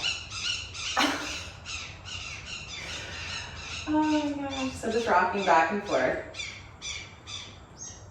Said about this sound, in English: Wow, the birds are going wild today.